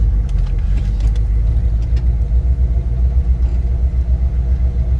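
A car rolls along in a historic festival parade at Lime Rock Park, its engine a steady low rumble close by with no one speaking.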